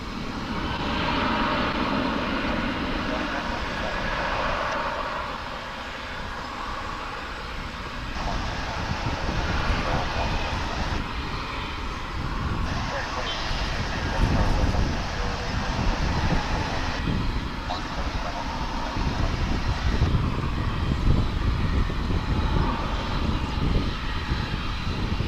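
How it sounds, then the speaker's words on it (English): A Boeing 787 Dreamliner taxies at Dallas/Fort Worth International Airport, its engines giving a sustained loud whine and roar that swells and shifts as it moves, heard outdoors with wind and no speech. "787 Dreamliner. And we should be seeing that one taxiing up to our position"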